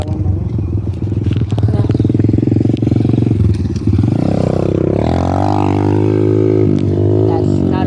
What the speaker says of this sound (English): That's not a bike. That's a dirt bike.